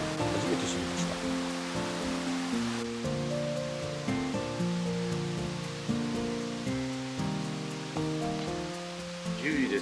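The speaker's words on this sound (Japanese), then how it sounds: "プールの脇には小さな滝のようなものがあるなんて初めて知りました。" Small waterfall beside a pool at a riverside campsite in autumn, a steady broadband rush of falling water running throughout.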